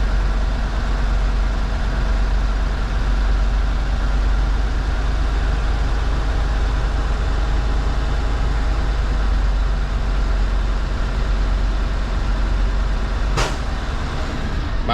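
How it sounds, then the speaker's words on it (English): A heavy truck engine idles with a steady low rumble, then near the end a short sharp hiss of air bursts out once as the air brake governor cuts out at about 120 to 130 PSI. "You wanna hear it sneeze, and that's gonna be your governor cutout."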